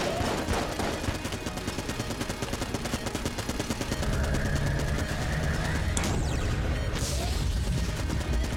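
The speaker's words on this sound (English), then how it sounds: "Stop firing. Stop firing at me." Dense, continuous gunfire from enemies in the game Enter the Gungeon, with rapid overlapping shots and bursts filling the clip, loud and close, with crashing impacts near the end.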